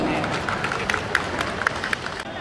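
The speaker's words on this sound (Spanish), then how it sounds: "¡Los aplausos!" Audience applause for a Negritos de Huánuco dance, scattered clapping and crowd noise running under a loud voice talking, with sharp individual claps popping through.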